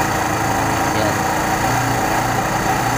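A Kawasaki Barako 2 motorcycle engine idling during carburetor tuning, a loud, steady running drone close by, with speech likely present over it.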